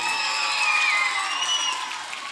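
A crowd of students and guests claps steadily at an Independence Day school celebration, a dense, sustained wash of applause that fades slightly toward the end, with no talking over it.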